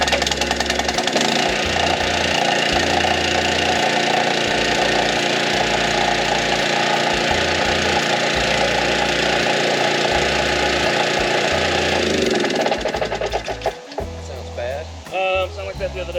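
A small gasoline engine driving a water pump for flooding a rice field for duck hunting chugs loudly in a rapid, uneven knock, running steadily before sputtering and dying away near the end.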